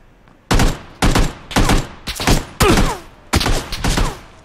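Gunfire in PlayerUnknown's Battlegrounds, seven heavy booming shots in an uneven rhythm, each with a rumbling tail, loud and close with nothing else heard.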